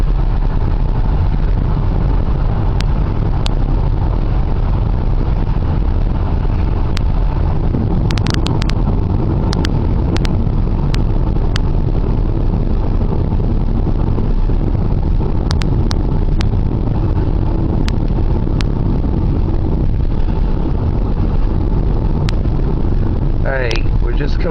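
Car cruising on the PA Turnpike near Downingtown, with a steady loud road and engine roar and wind rumble throughout, plus faint occasional clicks, no pauses.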